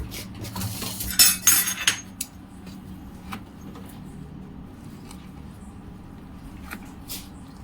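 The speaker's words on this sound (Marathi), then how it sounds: "सर्व छान मिक्स करून घेते" Spoon stirring rava appe batter with coriander and salt in a bowl, quick close scraping and clinking at first that settles into quieter intermittent taps, with no one speaking.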